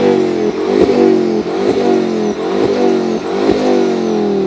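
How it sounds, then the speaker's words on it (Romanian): A Ford Focus ST fitted with a sport air filter and blow-off valve revs repeatedly, about four rising engine surges with sharp hissing releases between them, loud and close with no talking. "Cum se aude filtrul ăsta, da, sport și blow-off-ul"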